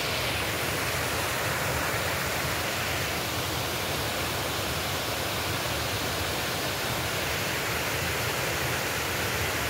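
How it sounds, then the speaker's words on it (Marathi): A small monsoon waterfall spills down beside stone steps on Agashiv hill near Karad, close by, making a loud, constant rushing hiss with no pauses or voices. "पायऱ्याच्या उजव्या बाजूला हा छोटासा धबधबा आहे, पायऱ्यांच्या बाजूनेच हा खाली येतो।"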